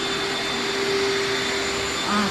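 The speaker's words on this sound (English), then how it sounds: "is vacuuming all the double plant shelf" Vacuum cleaner running while cleaning a double plant shelf in a home, a loud, close, continuous whirring roar with a steady high whine that lasts the whole moment.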